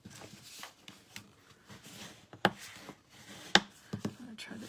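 Paper card stock is folded and creased by hand for a fun-fold Stampin' Up card, with close, quiet rustling and a couple of sharp crisp snaps as the paper is pressed flat.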